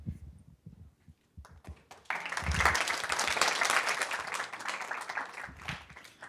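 Audience applause after a morning of presentations at a digital literacy day event. Scattered taps and voices come first, then a sustained, fairly loud burst of clapping fills the room and fades slightly toward the end.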